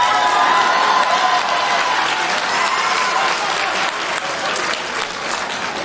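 A comedy club crowd at a stand-up show claps steadily and loudly, dense applause that slowly tapers over a few seconds with a few scattered cheers.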